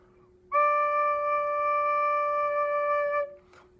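A recorder sounds one low note with all six finger holes covered, a pure, steady tone held for about three seconds, clear and alone, then released.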